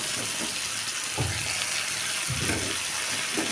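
Mushrooms go into sautéed tomatoes in a pan for gravy: a steady close sizzle with a few soft thuds and scrapes as they drop in and are stirred, with no talking.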